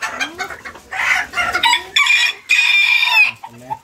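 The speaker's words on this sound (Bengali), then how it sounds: "মোরগ মোরগ মোরগ আরও খুবই খুবই পাওয়ারফুল একটা মোরগ" A Cochin rooster crows loudly and close by in long strained calls, while hens cluck and squawk around it in a busy poultry yard.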